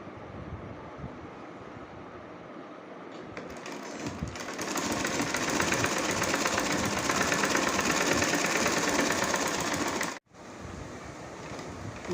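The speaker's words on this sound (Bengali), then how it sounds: "ভিতরের পাশটা সেলাই হয়ে গিয়েছে" A sewing machine stitching a kameez seam runs in a steady, loud, close whir that builds after a quieter start, holds for several seconds, then stops abruptly before the motor briefly resumes.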